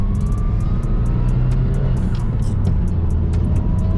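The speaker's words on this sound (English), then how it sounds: "You can definitely hear that transmission spinning up." A Nissan S13 with a newly installed ISR Performance short shifter drones from inside the car, a steady loud low rumble with a faint whine rising as the transmission spins up.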